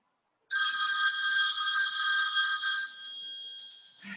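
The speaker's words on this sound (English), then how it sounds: "Forgot to switch my phone off." A mobile phone rings during a strength workout: a bright electronic ringtone starts abruptly after a short silence, trills continuously and loudly up close for several seconds, then fades slightly before cutting off.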